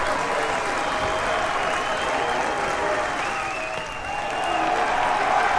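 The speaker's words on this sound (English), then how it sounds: "the Hortonville crowd rising to its feet in a crucial part of the ball game." A Hortonville crowd rises and cheers at a Wisconsin high school baseball state semifinal, producing a steady, dense roar of applause and shouting that holds throughout, dipping briefly near the end before swelling again.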